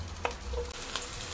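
Onion frying in a little oil in a pan, a soft steady sizzle with a few stirring scrapes, close and low in level with no talk.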